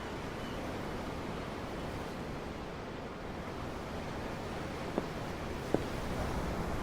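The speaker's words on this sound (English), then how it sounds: "I'm looking at the ocean." Steady ocean surf washes continuously in Tales of Arise, a broad, even roar of waves heard from aboard a ship, with two faint clicks near the end.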